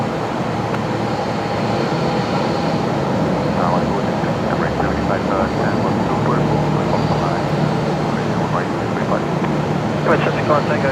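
A Qantas jet airliner takes off from runway 01 right at Brisbane Airport at night, a steady broad roar that holds throughout while radio voices and talk sound over it.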